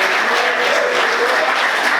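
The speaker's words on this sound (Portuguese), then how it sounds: "Você pode aplaudir o Senhor com alegria" A church congregation applauds during a service, a loud, dense, continuous burst of clapping from a large crowd, heard alone without speech.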